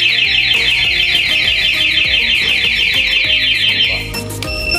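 A Honda Navi motorcycle's two-way alarm sounds on locking, a loud, close, rapidly warbling electronic siren that holds steadily for about four seconds before cutting to a different tone, with no talk.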